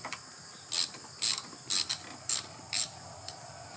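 A ratchet loosening a 10 mm battery terminal nut on a Honda Civic, five or six quick crisp clicking bursts at a steady rhythm, close and fairly quiet with no talking.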